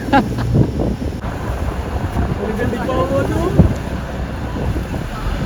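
A small boat rocks and dips through choppy water in strong wind on a coastal trip, with heavy wind buffeting and splashing under a nearby voice.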